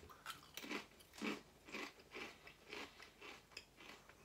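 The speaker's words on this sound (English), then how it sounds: "Crunchier than regular crisps." Crisp, rhythmic crunching of thick potato crisps being chewed close to the ear, about eight distinct bites in a steady pattern.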